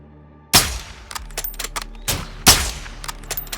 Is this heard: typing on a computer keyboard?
no